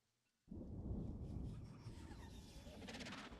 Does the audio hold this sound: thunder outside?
yes